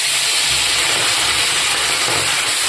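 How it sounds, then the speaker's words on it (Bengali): Pabda fish fry in hot salted mustard oil, giving a loud, continuous hissing sizzle that stays even and unbroken throughout. "তেলটা হয়ে গেছে, মাছগুলোকে আমি একে একে ছেড়ে দিচ্ছি।"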